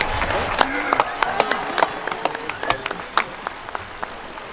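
A warm round of applause from a graduation crowd at Red Mountain High School honoring students who presented the colors and sang the alma mater, steady clapping from many hands with some sharper nearby claps, voices mixed in.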